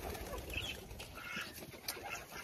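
Farm birds cackle and coo faintly in short scattered calls around a house on a small farm, with some low rustling and background noise.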